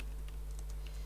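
Quick, light keystrokes of code being typed on a computer keyboard, a soft close patter of several taps over a steady low electrical hum, with no talk.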